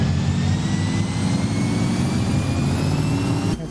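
Vintage Ford 534 cubic-inch V8 in an F800 truck from American Truck Simulator, held at steady loaded revs with a continuous heavy low drone and faint whine, cutting off abruptly near the end.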